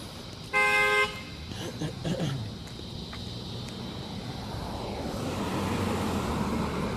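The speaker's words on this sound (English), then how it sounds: "That guy just honked his horn." A single short car horn toot sounds near the start, followed by steady traffic and road noise that swells slightly toward the end.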